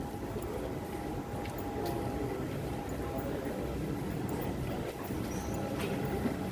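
A Lyon metro train rumbles at a station, a steady low mechanical roar with a faint tonal hum and occasional clicks, fairly distant and continuous with no clear voices.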